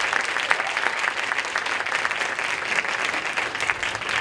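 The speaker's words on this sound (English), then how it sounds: "Everybody give him a round of applause." An audience applauds a speaker at a talk, steady dense clapping throughout, loud and close.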